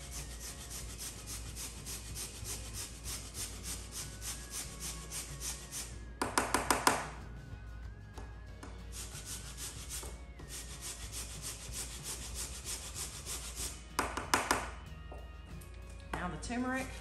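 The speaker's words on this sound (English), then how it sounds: "Also, this is frozen ginger. These are all frozen. They're much easier to grate if you freeze them first." Frozen ginger root rasped against a grater, a steady close scraping rhythm with a couple of louder bursts of strokes, no talk over it.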